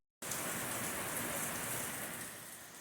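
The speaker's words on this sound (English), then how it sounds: "it's raining pitchforks and hoe handles out there" Heavy rain pours down outside with a dense, steady hiss. It starts abruptly and then holds loud and even before easing slightly toward the end, with no voices over it.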